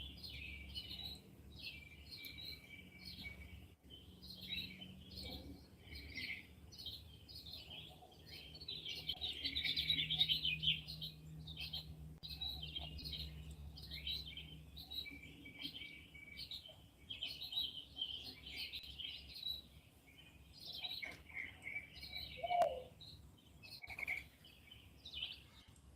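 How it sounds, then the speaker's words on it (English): A small bird chirps and tweets very near the microphone in steady, rapid repeated calls over a low background hum, continuing throughout with a few louder trills and no voices. "that bird was close to the camera"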